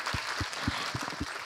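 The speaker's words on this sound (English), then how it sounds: "We'll give a round of applause to Birgit Liodden." A small online keynote audience gives a short, sparse round of applause, with scattered claps heard faintly and at a distance.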